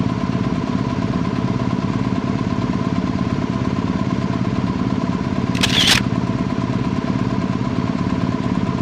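A camera shutter snaps once, a short sharp double click, over the steady drone of an idling motorcycle engine out in the Flinders Ranges outback. No one speaks.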